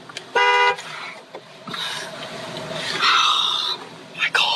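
A car horn gives a sharp, loud honk from close by, followed by rustling, bird noise and the low rumble of the vehicle's surroundings.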